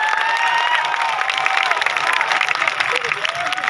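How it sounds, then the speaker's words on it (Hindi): Steady, dense applause from a crowd at a business event, loud and sustained throughout with some cheering mixed in, brief voices under the clapping. "जोरदार तालियां होनी चाहिए"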